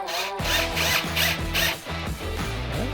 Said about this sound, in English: take our Phillips and fasten the screw